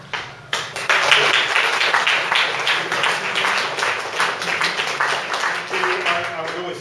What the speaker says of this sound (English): Don't clap yet because I haven't done anything